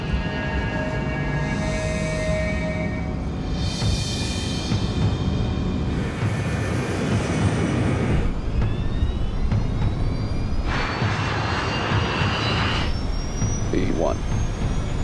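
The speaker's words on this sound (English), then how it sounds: "The DC-8 accelerates to takeoff speed." A DC-8 jet airliner roars as it accelerates down the runway at Gander Airport, a loud sustained engine rumble and whine, with a voice talking over it at intervals.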